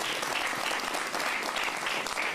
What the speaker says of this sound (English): you can clap for him again.